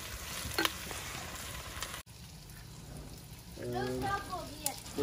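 Onions frying in a pan over a wood fire give a steady crackling sizzle throughout, with a brief break midway and some clattering stirring toward the end.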